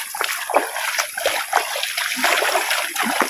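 Close, lively trickling and splashing of a flowing river, bubbly and continuous, with no voices.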